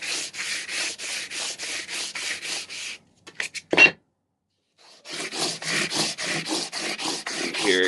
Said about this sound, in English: You hear it grinding off the extra rust and stuff.